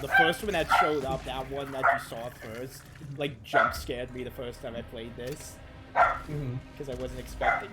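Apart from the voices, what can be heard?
dog barking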